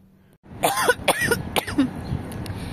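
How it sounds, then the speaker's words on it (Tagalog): A woman coughs and clears her throat in a rapid cluster of harsh, close bursts after choking on juice, trailing off into quiet noise. "Inuubo ako dun sa sa juice."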